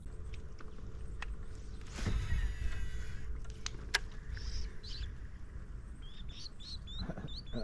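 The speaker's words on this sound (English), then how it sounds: "That bird is yelling at my" A bird calls near a kayak during a bass fishing tournament on the water, sounding in a few short, chirping bursts over the outdoor background noise.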